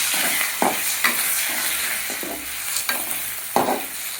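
Egg frying with green chillies in a pan, a close steady sizzle broken by several sharp scraping stirs of the spatula at uneven intervals.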